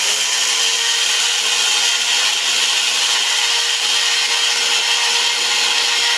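Dry mustard and poppy seeds being ground for steamed hilsa, a loud, unbroken whirring grind that holds steady from start to finish with no voices.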